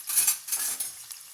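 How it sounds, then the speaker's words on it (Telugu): Chopped onion frying in hot oil in a pan for a chicken curry, with soft sizzling and a few metal spoon scrapes and clinks in short bursts, close and moderately loud, no talking. "ఇలా ఒక నిమిషం పాటు ఆనియన్ ఫ్రై చేసుకుందాం"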